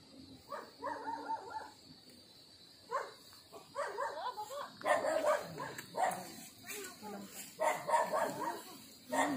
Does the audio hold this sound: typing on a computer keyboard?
no